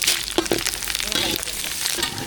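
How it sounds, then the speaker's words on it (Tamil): Dried red chillies, curry leaves and cumin crackle and sizzle in hot oil for a sambar tempering, a steady close hiss with popping spatters throughout, briefly overlaid by a voice in the background. "வரமிளகாய் நல்லா பொரிஞ்சிருச்சு கருவேப்பிலை சேர்த்துக்கலாம்"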